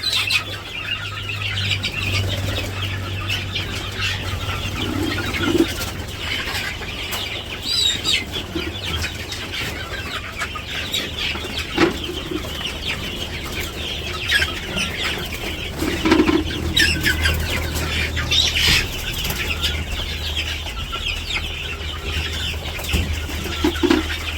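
Hens cluck intermittently nearby with occasional wing flaps, over a constant low hum and no talking.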